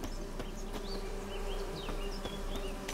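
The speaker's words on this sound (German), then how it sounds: "Diese Bienen." Bees buzzing in the video game Witcher 3: Hearts of Stone, a constant close insect drone with faint chirps and ticks layered over a steady low hum.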